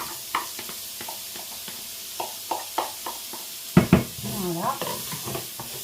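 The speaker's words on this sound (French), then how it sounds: "je fais revenir mes petits oignons dans l'huile de tournesol" Small onions sautéing gently in sunflower oil in a pan, a soft sizzle under repeated stirring scrapes and knocks of a utensil, close by, with a brief spoken word near the end.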